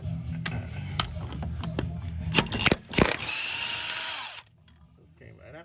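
A power tool removes the big bolts from the rear differential of an AWD Lincoln MKX or Ford Edge. It makes several short, close, rattling bursts, then a longer steady whir before it stops, with people talking in between.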